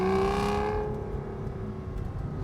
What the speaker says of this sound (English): This is my first time driving a V12 engine car, and my, oh my, is it a lovely sound.